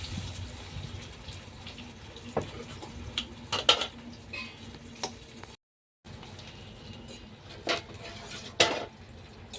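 Chopped onions are stirred in a pan with a utensil, making soft intermittent clinks and scrapes over a faint, quiet sizzle, with a brief silent break partway through.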